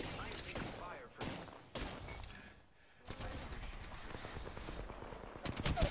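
Gunfire from the video game Apex Legends, with rapid automatic bursts and scattered shots in several clusters, fairly quiet and mixed with game effects.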